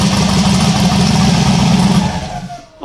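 A freshly turbocharged engine runs loud and close with a rough, throbbing drone, then winds down toward the end, leaving a rising whistle as the turbo spools.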